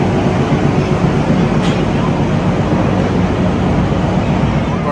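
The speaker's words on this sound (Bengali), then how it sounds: "টয় ট্রেন ছাড়লো" Shimla toy train, the Himdarshan Express, pulling out from the platform: a steady, loud rumble and rolling rail noise runs throughout, with voices faintly mixed in.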